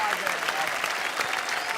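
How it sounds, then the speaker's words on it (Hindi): An audience at an Urdu poetry gathering gives a short burst of steady applause that stays loud and dense the whole way through, with a voice mixed into the clapping. "तो भाई आम आदमी के लिए एक बार जोरदार तालियां"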